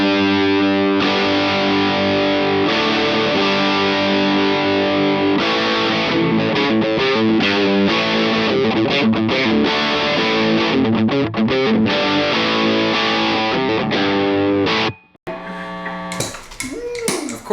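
Electric guitar driven through a JHS Angry Charlie distortion pedal, thick saturated chords and riffs played steadily and loud for about fifteen seconds before cutting out abruptly, followed by brief string squeaks and noise.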